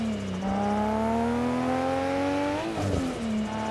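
A stock Skyline GTR R34 engine swapped into an FR-S/BRZ/86 revs steadily upward toward the limiter, holding a loud, smooth rising whine before a quick drop and brief stutter near the end.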